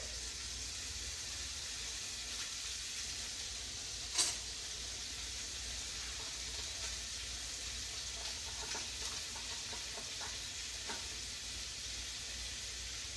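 A teaspoon of unsweetened butter sizzles in a pan as a soft, steady hiss, punctuated by a single sharp crackle and a few faint pops while it melts.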